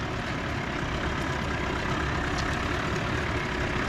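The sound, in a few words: off-road truck engine idling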